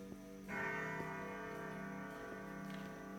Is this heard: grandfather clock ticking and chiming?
yes